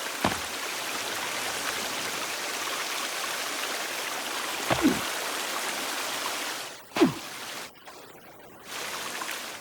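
A flowing forest stream in The Forest video game gives a continuous close rushing-water hiss, with a few brief clicks and a short quieter dip near the end.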